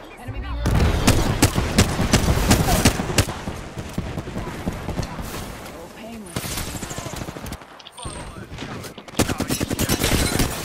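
Rapid automatic gunfire from the shooter game Apex Legends rattles in dense, loud bursts with brief pauses and single sharp shots, while players talk and shout over the barrage.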